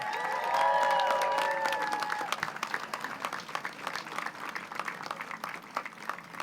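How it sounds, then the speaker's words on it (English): At a political event, a crowd applauds and cheers for law enforcement officers and veterans, whoops and a burst of cheering at first, then steady clapping that thins gradually. "Let's give them a round of applause."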